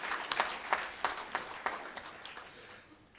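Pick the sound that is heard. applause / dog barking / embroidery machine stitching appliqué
applause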